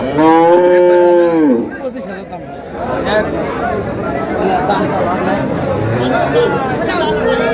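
Cows and calves moo at a crowded cattle market in Dinajpur, one loud close moo at the start followed by dense chatter of buyers and sellers under further livestock noise.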